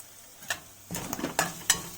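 White lentils and asafoetida dropped into hot oil while cooking ridge gourd, a few soft clinks followed by a brief rising sizzle with light stirring, close and moderately quiet.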